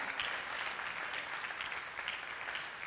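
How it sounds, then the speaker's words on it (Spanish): A church congregation claps in a dense, continuous round of applause, loud and sustained throughout. "Dale un aplauso a Jesús, porque su palabra es digna de ser leída."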